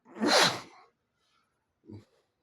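A single loud, breathy sneeze bursts out up close, followed by a short soft sniff or exhale after a brief pause.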